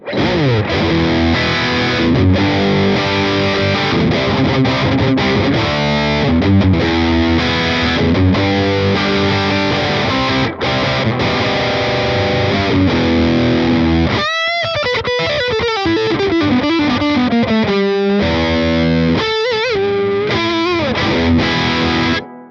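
Electric guitar through a Hughes & Kettner Spirit Nano amp head with high sag, medium-gain distortion, chugging chords and riffs played loud and continuous, with a brief pause before fast single-note runs.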